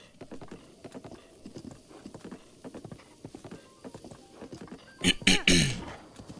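Rhythmic clip-clop of horses trotting in the video game The Legend of Zelda: Breath of the Wild, a steady patter of hoofbeats with a louder burst of game sound near the end.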